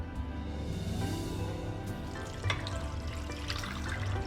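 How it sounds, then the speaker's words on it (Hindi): Water poured into a cooking pot of mutton karahi with onion, salt and oil, a continuous close splashing and gurgling stream lasting several seconds. "और साथ में मैं डालूंगी इसमें पानी।"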